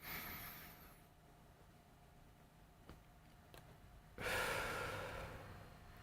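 A single forced inhalation, demonstrated during a group meditation session, comes as a quiet, close breath that swells into a sharp, rushing draw of air near the end after near silence.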